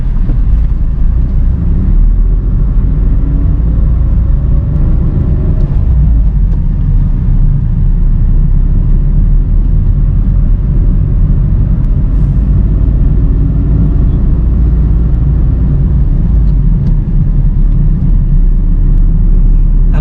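A car rolls slowly over a speed breaker in first gear with the throttle released, its engine giving a steady, close, low rumble throughout with no talking.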